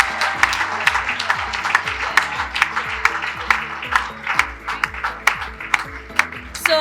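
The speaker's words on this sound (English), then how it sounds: "let's give a huge applause for our top 25" Sustained applause from a graduation audience at a primary school ceremony honouring the top 25 students, steady dense clapping with a few sharper nearby claps and a low tonal hum underneath.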